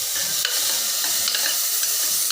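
Brinjal and sambar vegetables frying in a pan as tomatoes go in, a steady close sizzle broken by several soft stirring scrapes, with no voices.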